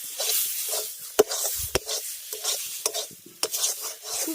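Boiled banana flower (mocha) being sautéed and dried out in a pan: repeated close spoon scrapes and knocks against the metal over a steady frying sizzle, with no speech.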